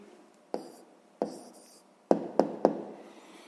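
A pen writing down an answer to a sixth-grade maths exercise, five short scratchy strokes in quick, irregular succession, close and quiet.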